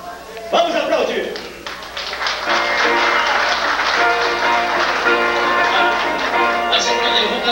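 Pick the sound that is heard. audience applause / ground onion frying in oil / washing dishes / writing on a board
audience applause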